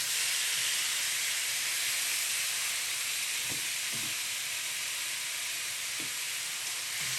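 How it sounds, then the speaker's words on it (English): Leg of lamb steaks with a little salt sizzling in a dry frying pan, a constant bright hiss with a few soft pops and clinks, no one talking. "I'm just going to put them in whole on the frying pan."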